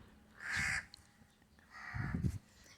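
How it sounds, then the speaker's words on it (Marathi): Two loud, harsh caws from crows gathered at a wok left full of drinking water outdoors in hot weather, one burst near the start and a rougher one about a second later, with no talking. "खूप सारे कावळे येतात पाणी पिऊन जातात"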